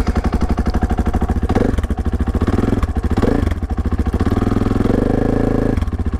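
A motorcycle engine runs close and loud while riding, with a fast, pulsing exhaust beat and rising and falling revs, and no talk.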